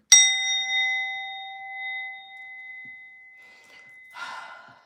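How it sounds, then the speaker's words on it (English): A heart chakra bell is struck once, ringing out with a bright, sustained tone that slowly decays over several seconds, followed near the end by a faint breathy sound. "I'm going to hit this chakra bell here."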